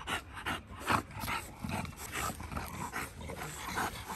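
An American Bully dog pants and growls in low, rough bursts close to the microphone, with steady breathy noise throughout over a busy background.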